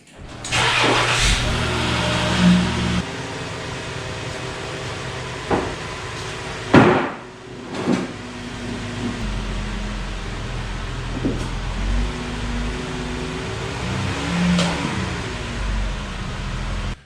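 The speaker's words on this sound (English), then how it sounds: "I'm going to go ahead and get the vehicle up on the ramp" A car engine is started and idles, then revs in short bursts with some knocks and clunks as the vehicle is driven up onto a ramp for an oil change, steady and close.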